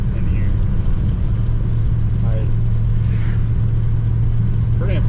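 A 1978 Dodge Diplomat classic car runs steadily while driving, a continuous low engine drone with road noise inside the cabin and a few faint higher squeaks over it.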